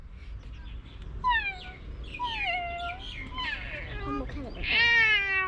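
A cat near the train station at the marine science museum gives several drawn-out, falling meows in quick succession, close and fairly clear, while a person speaks briefly nearby.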